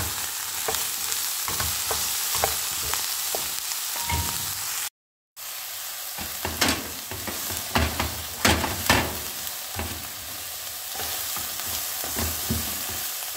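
Fresh broccoli fries with chicken in a hot pan, a continuous loud sizzle broken by scraping stirring strokes and crackles, with one brief full dropout midway.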